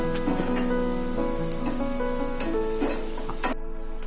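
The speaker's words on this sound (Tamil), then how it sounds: "இப்போ எல்லாத்தையும் சேர்த்து நல்லா வதக்கிடலாம்." Beans and onion sautéing together in a pan for an egg paniyaram masala, a steady sizzle with scraping stir strokes throughout, ending in a brief clatter near the close.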